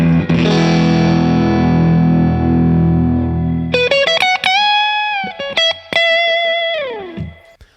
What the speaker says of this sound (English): Universal Audio describes this one as the classic California ported combo cabinet sound, great for mildly overdriven sounds